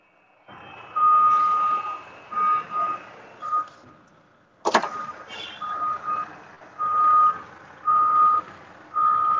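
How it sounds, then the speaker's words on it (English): A trash truck reversing, giving a steady rhythm of loud electronic beeps repeating about once a second, with a sharp clank partway through and low engine rumble underneath, no talk. "sounds like a trash truck when he comes down the road"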